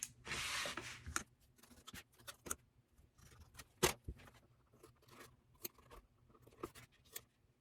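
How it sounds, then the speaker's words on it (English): Scissors snipping the corners of fabric bag panels while sewing a tote, a series of short, dry cuts and small handling rustles, close and quiet, with no talking. "Just going to mark these out and then snip these."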